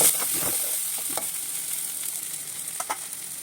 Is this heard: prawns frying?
yes